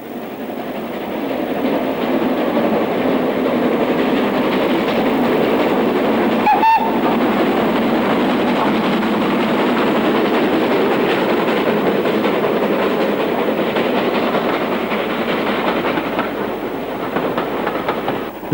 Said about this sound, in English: This train is captured as the line passes close by Beck Hole.